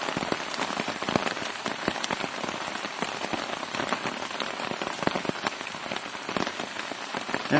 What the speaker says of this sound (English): Well, it started raining again, so I had to set up my shelter again.